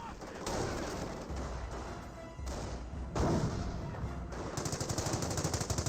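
Machine gun fire in the World War II strategy game Company of Heroes, with rapid bursts of automatic gunfire, booming explosions and battle rumble throughout, ending in a fast rattling burst close up.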